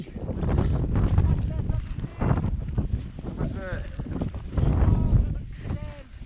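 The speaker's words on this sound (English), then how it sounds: "Very windy." Strong wind roars and buffets the microphone in gusts while people talk loudly over it, high on the mountain Gasherbrum I.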